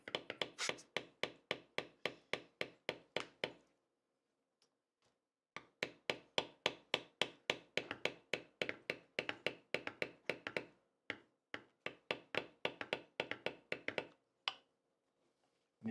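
Leather beveling with a tool struck by a mallet during leather tooling, rapid regular close taps in long runs, pausing near four seconds and again near fourteen, no talk.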